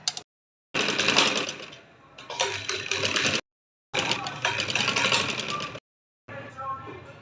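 Sewing machine stitching the neckline of a frock for a one-year-old baby girl, running in several bursts with short silent pauses between them, loud and close.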